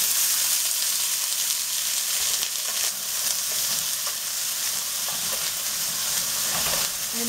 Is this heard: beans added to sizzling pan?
yes